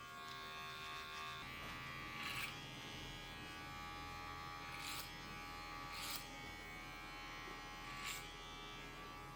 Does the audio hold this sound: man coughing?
no